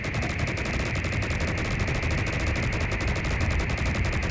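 A destroyer's giant gatling gun in a video game fires one sustained strafing volley, a loud, rapid, unbroken stream of shots with no talk.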